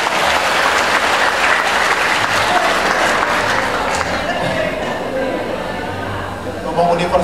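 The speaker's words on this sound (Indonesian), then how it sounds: "Tepuk tangan untuk teman-teman TK Brawijaya" Training-session audience gives loud, continuous applause for the TK Brawijaya group, a dense wash of clapping lasting several seconds with a crowd murmur underneath.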